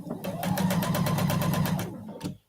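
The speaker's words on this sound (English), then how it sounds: "all I have to do is pick up 2. Make sure my seam is butted, my edges are butted, and we get to sew 4 patches" A sewing machine stitches quilt patches together in one steady, close, continuous run of rapid needle strokes lasting about two seconds, then stops.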